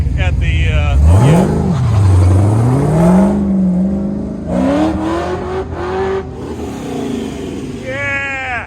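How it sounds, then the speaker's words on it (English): A twin-turbo Speedway Corvette tears around an autocross course, its engine revving and sweeping up through the gears close by, loud and continuous, with tires squealing and an announcer talking over it. "Come on down, Brian Martin, the Speedway Corvette."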